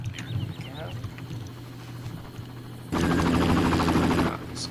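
In the Far Cry video game, a helicopter's rotor chop drones steadily under a voice, then swells suddenly louder and denser for a couple of seconds before dropping back.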